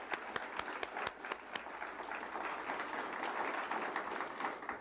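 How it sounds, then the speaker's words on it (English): Audience applause at a 1988 civic service awards evening, a faint room of scattered clapping with a few sharp individual claps standing out, steady for several seconds. "let's have another round of applause so I can hear us going out the door"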